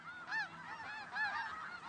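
Snow geese honking at their colony on the Russian Arctic tundra, two or three nasal calls from a moderate distance, alone without voices.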